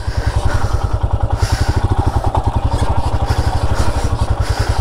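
A scooter engine runs steadily and close, with a fast, even low throb that holds for the whole stretch during a weekend ride on rough roads near Panikot Lake, Faridabad.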